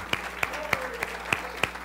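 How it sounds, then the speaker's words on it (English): A church congregation clapping in praise during a Sunday morning service, heard as six sharp, evenly spaced claps about a third of a second apart, fairly faint with a low hum beneath. "give him a great hand clap of praise today"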